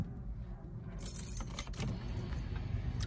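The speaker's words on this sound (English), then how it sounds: "I'll turn my ignition on and move the boxes out of the way for you" Car keys jangle close by as they are turned in the ignition, a brief bright metallic rattle over a low vehicle hum, without speech.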